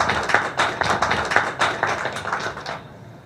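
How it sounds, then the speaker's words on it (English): An audience claps for a county governor at an estate handover event, a dense ragged burst of applause fading over a few seconds. "let's clap for Governor"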